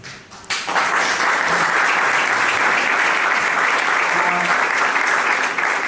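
A crowd applauds steadily, a dense wash of clapping hands that starts abruptly and holds at a loud, even level throughout.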